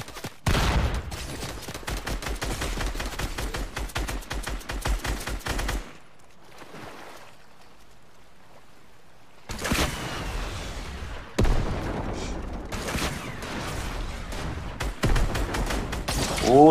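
SMG gunfire in Fortnite rattles in rapid, loud bursts, with a long stretch of sustained fire, a quiet gap, then several more bursts of shots.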